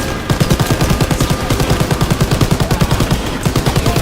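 Sustained machine gun fire in a WWII video game, a loud rapid unbroken stream of evenly spaced shots rattling on for several seconds without pause.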